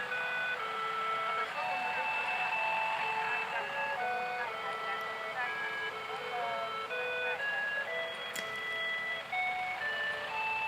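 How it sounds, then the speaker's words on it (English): Tinkling electronic theme tunes played from passing delivery and utility trucks near an arcade, bright melodic chimes repeating over steady street hum, moderately distant, with no one talking. "Listen to the trucks, the music of these trucks."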